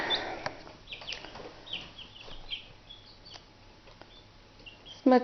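Young chicks chirp and peep in short, scattered calls, soft and fairly close, with occasional louder cheeps and a brief bump near the end.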